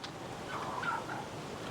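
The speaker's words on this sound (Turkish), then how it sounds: "burada tavuk da var" Chickens on a walnut farm in Gönen, Balıkesir, give a brief burst of clucking and gobbling calls at moderate distance over a soft outdoor hiss, with no voices.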